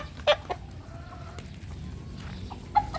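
Hens cluck in a farmyard, a few short sharp clucks and calls standing out over a low steady background hum, fairly close.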